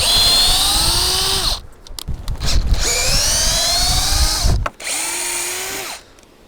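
A cordless drill whirs loudly in three bursts as it backs screws out of diagonal pieces holding a cabin wall in place, its pitch sliding down as each screw loosens, with short pauses and knocks in between.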